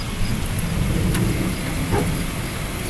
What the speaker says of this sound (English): raining right now